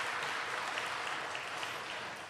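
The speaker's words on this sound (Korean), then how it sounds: "우리 찬양들을 위해서 박수 한번 쳐주시기 바랍니다" Faint, even applause from a church congregation at an evening prayer service, thanking the worship singers with a dense wash of clapping throughout.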